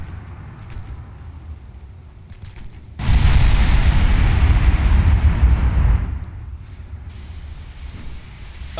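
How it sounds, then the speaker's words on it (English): Naval gunfire in a dreadnought-era battle game, with 6-inch guns firing at a ship: a loud, dense burst of blasts and rumbling roar lasts about three seconds over steady low background noise, then drops back. "A 6-inch gun nearly blew it up."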